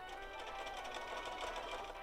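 A sewing machine stitches a basted seam in slippery fabric with a continuous, fast, rhythmic mechanical whir, close up and fairly quiet, with no voices.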